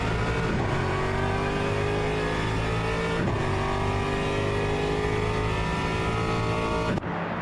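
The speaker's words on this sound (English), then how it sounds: "Great sounding car as well." Race car engine in Le Mans Ultimate at the Bahrain endurance circuit, roaring loud and steady with rising revs through gear shifts, a brief dip near the end, no talk over it.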